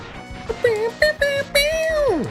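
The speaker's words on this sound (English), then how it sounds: "I don't really like this guitar sound for the instrument." Synthesized guitar lead from the Super Nintendo soundtrack of Mega Man X3, playing a short bright melodic phrase of sustained, bending notes with a falling pitch slide at the end, loud and alone.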